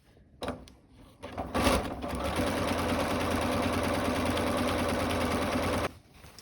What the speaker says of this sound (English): And just sew 5 or 6 lines just to get an idea for this tension swatch.